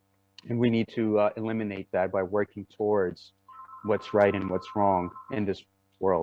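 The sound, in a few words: telephone ringing in the background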